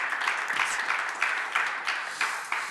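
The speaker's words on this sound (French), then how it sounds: "On peut les applaudir très fort." An audience at a sustainability conference talk claps in a brief burst of applause, a dense patter that swells in waves and fades.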